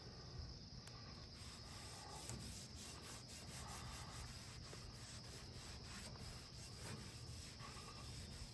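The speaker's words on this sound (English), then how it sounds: "Maybe easier to scrub it like my daughter was doing" Steady scrubbing on the painted chrome trim of a 1956 Ford Fairlane, a continuous abrasive rubbing with a fairly even, close texture throughout and no talking.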